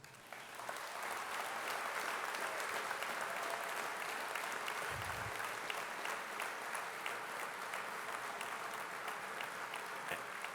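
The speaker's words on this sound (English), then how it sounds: "So Jay Noble deserves a huge round of applause." Long, full round of audience applause at a university Hall of Fame induction ceremony, a dense, even roar of clapping from a sizeable crowd that sustains for about ten seconds without talk.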